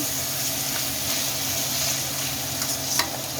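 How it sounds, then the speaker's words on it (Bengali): Paprika and ground spices stirred in a hot frying pan for a ground beef dish, giving a steady close sizzle with soft scraping strokes throughout and no talking. "দিয়ে আমি এই মশলাটা একটু নেড়ে দিচ্ছি"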